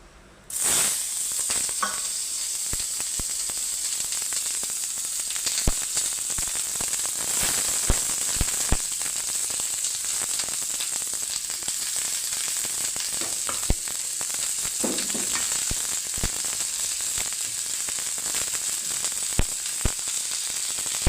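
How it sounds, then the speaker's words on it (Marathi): Oil sizzles steadily in a tawa pan, a constant close hiss that runs for the whole stretch with a few sharp pops and crackles, and no voices over it. "मी तवा ठेवला आहे आणि तव्यात तेल घातलं आहे."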